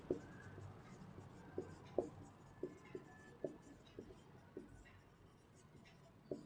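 Chalk or a marker taps and scrapes across a board while someone writes a trigonometry solution, giving sharp, close, irregular clicks and strokes over a quiet background.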